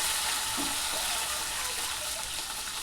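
A kadhai of hot oil used for tempering spices, chillies and finely chopped garlic for a mung and spinach dish sizzles with a loud, even hiss that runs throughout without talk.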